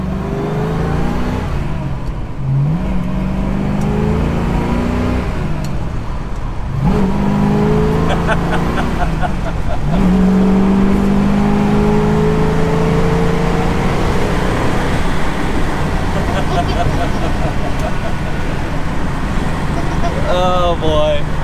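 A 1960s Ford Mustang R Code muscle car, tuned to around 460 horsepower, revs its engine repeatedly with rising and falling pitch sweeps, loud and close throughout, while people talk over it.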